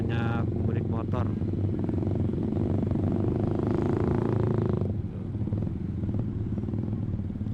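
Motorcycle engines hum and drone as many bikes ride along the Pantura highway during the holiday homecoming exodus near Klari, a continuous traffic rumble under a person talking.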